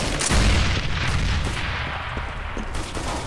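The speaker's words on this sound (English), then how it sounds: "Grenade." A grenade blast in Counter-Strike: Global Offensive on the Dust II map, a loud close boom with a dense, noisy rumble that stays heavy for several seconds.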